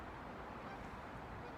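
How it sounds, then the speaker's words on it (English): A flock of geese honks outdoors at a distance, faint calls blending into steady wind and background noise with no talking. "here comes some geese. Let me do the geese."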